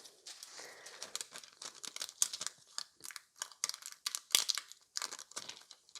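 Thin nail art foil being snipped into a small piece, a run of quiet, close crinkling and crisp cutting sounds in irregular bursts with short pauses between.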